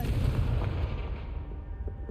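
Hogwarts Legacy's Confringo fire spell explodes in a deep, heavy blast that rumbles on and fades slowly over a couple of seconds, with no talking.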